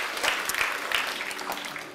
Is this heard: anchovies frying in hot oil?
no